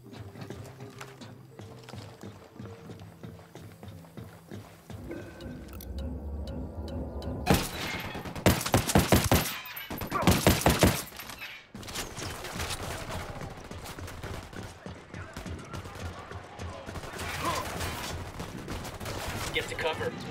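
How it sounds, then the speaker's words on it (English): Bursts of automatic gunfire in the tactical shooter Ghost Recon Wildlands, loud sharp volleys around the middle of the stretch over a steady bed of game ambience, with clipped radio-style talk heard now and then. "Opening fire."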